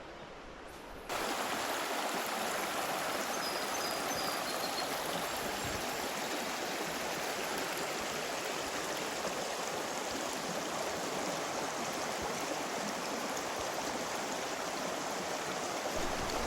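A creek flows steadily in rural Indiana, its water rushing with a constant, full-bodied wash that fills the scene without pause after a brief quieter start.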